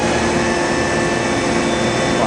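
Spindle of a Mazak vertical machining center running at about 4,000 RPM, a steady, loud, continuous whir with a broad noisy hum and a few fine high tonal lines, no breaks or talk.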